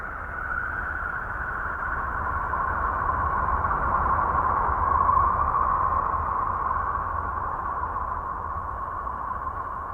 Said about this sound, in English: This is the sound of Uranus.